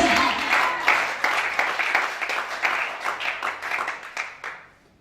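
A church congregation bursts into applause during a service, many hands clapping loudly and densely in a steady rhythm before tapering off and fading out at the end.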